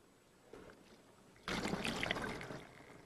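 Apple cider vinegar pours in a short, wet splash into a pot of other ingredients, starting abruptly partway through after a quiet lead-in and running steadily to the end.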